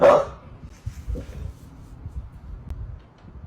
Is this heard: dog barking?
yes